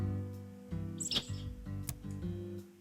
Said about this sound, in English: I like that stock sound effect chirp.